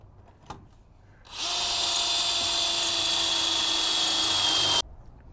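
A power drill bores through metal on a C30 Squarebody truck, whining loudly at a steady high pitch for about three and a half seconds, starting and stopping abruptly, after a brief knock.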